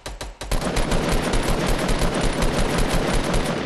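Rapid automatic gunfire in a video game firefight, loud and close, a dense continuous burst that starts after a brief pause and runs to the end, with no talk over it.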